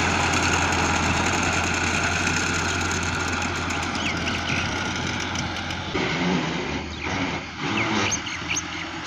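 A tractor engine runs steadily with a low, rough rumble, loaded as it hauls a heavy load along a road. The tone shifts and dips near the end.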